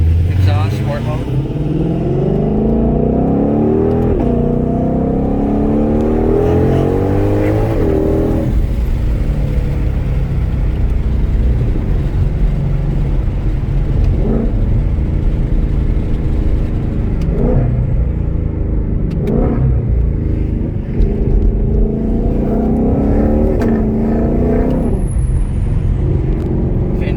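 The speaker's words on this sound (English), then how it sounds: "This is sport exhaust," A 2020 Shelby GT500 in sport exhaust mode revs up repeatedly, its loud, deep engine note rising and falling in several bursts close by, with people talking over it.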